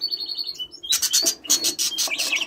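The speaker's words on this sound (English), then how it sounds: "there's the male budgie there" A male budgie chirps close by near its nest, a few thin whistles followed by a burst of bright, rapid warbling tweets, loud and without speech.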